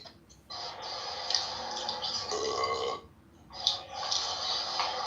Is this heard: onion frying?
no